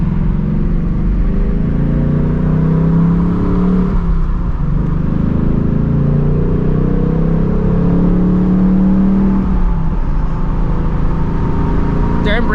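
A Ford Mustang engine, a 2024 GT or 2016 Shelby GT350, drones loudly and steadily while driving, its pitch dipping and rising through downshifts from third to second and back, with road and cabin noise throughout.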